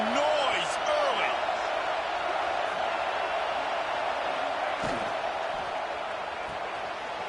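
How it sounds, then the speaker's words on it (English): Stadium crowd in a college football video game, UCLA at Oregon, a steady broad roar of fans that holds throughout at moderate level, with a couple of brief sharp knocks near the start and middle. "This crowd bringing the energy and noise early."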